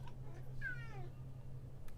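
A single indoor cat meow, a short rising-then-falling cry near the middle over a steady low electrical hum, fairly quiet with no talking.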